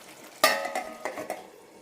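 A spoon stirs tamarind-based puli curry in a pan, with one sharp scrape followed by a few quicker, softer scraping strokes, close and alone.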